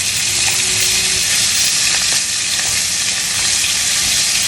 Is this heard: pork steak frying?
yes